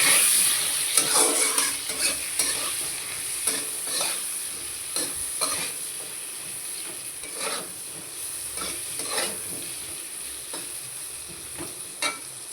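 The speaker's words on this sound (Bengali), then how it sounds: "আর এই আলুগুলোকে আমি শুধু ভেজে নেব, লবণ হলুদ দিয়ে সুন্দর করে ভেজে নেব।" Potatoes frying with salt and turmeric in a pan, a quiet continuous sizzle punctuated by regular spatula scrapes and stirring clicks at a fairly even pace, no voices.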